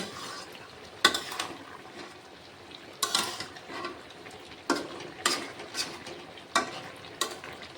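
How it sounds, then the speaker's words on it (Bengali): A spatula scrapes and clatters through chicken kosha in a pan over a low sizzle, with about eight sharp stirring strokes at irregular intervals, close and fairly quiet. "আবার এটা ভালোভাবে নেড়ে দিচ্ছি"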